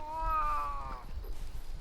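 A cat meows in the video game Monster Hunter Rise, one drawn-out, clear, tonal meow that fades into low background game ambience.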